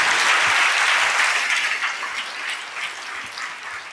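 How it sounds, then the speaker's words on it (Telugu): Sustained group clapping from a sermon congregation, full and close at first, then gradually thinning and softening as the applause winds down, with no talking. "అర్థమైతే కొట్టు చప్పట్లు."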